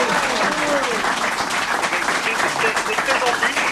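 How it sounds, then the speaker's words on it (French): A studio audience applauds on a French radio show, warm sustained clapping that runs steadily throughout while a voice talks over it. "Le public est là aussi qui t'applaudit"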